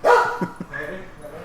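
A puppy gives a short yelp followed by a couple of quick barks and soft whimpers, close and fairly loud, over about a second and a half.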